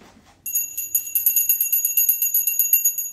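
A hand bell rings steadily during a Sunday school session, with quick, bright, rhythmic jingling that starts abruptly and continues close and clear for about three seconds, with no talk over it.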